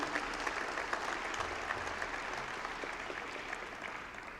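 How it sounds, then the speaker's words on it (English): Audience clapping at a basketball coach's introductory press conference, a dense, steady patter of many hands held at an even level throughout without a clear break. "You can clap to that."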